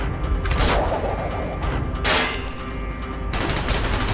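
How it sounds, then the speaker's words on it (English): Bursts of rapid gunfire in Call of Duty: Black Ops, heavy volleys near and loud, with clear breaks between three separate barrages and no talking. "Gunfire's drawing attention."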